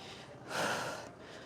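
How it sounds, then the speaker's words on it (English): One sharp, heavy exhalation from a person during an at-home leg workout, a brief breathy puff rising out of quiet room tone and fading, close and faint. "already breathing heavy"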